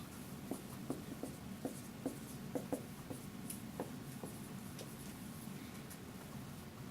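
Pen or pencil scratches out a math equation on paper in short rhythmic strokes, soft and close over a steady room hiss, no one speaking.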